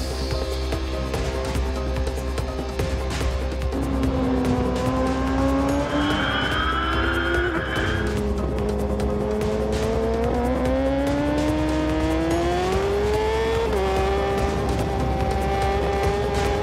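A racing motorcycle at the Bol d'Or endurance race on the Circuit Paul Ricard, its engine howling loudly and steadily with rising and falling pitch sweeps as it accelerates and shifts. No talk is heard.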